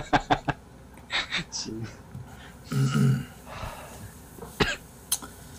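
Several sharp coughs and throat noises in quick bursts, close and loud, mixed with brief laughter-like breaths and vocal sounds.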